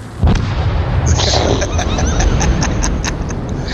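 A weapon fires in a video game with a loud booming blast, followed by a sustained rumbling burst and a series of faint high pings trailing off.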